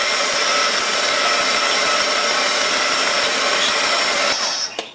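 A hair dryer blows steadily on watercolor paint on a Bible journaling page, a loud continuous airy whir held close for nearly five seconds before it starts to cut off at the end.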